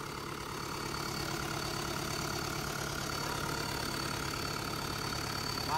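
A Yuchai 4108 diesel engine runs smoothly at a steady idle, a continuous even hum with a faint mechanical tick, heard close and alone.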